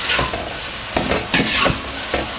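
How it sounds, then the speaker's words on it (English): Chow mein with sauce is stir-fried in a hot wok, giving a loud, close sizzle with quick rhythmic scraping and tossing strokes across the pan. "keep stirring and flipping to avoid sticking"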